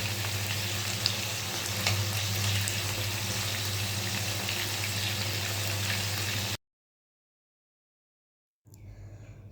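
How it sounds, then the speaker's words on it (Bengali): Chicken meat frying in a pan gives a steady, dense sizzle that fills the first six seconds, then cuts off to silence before faint kitchen noise returns. "এদিকে আমার মাংস ভাজা হয়ে গেছে"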